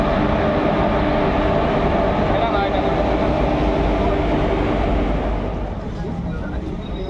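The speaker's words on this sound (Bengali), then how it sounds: "তো বন্ধুরা, আমরা ট্রেনে উঠে গেছি।" A passenger train leaving Naihati for Tarapith rolls along with a loud, steady rumble heard from on board, easing slightly toward the end.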